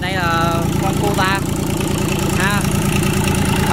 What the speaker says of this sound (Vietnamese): bây giờ Sang mời cả nhà mình nghe tiếng máy nổ của con Kuta này